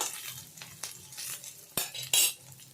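Ingredients frying over a low-medium flame, soft sizzling broken by repeated spoon scrapes and metallic clinks against the pan, close by, with no voices.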